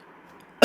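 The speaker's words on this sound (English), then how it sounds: "sorry I have a bad cough today while recording this" A single sudden, loud cough from someone recording a dental lecture on periodontal classification while suffering a bad cough, bursting in abruptly after near silence.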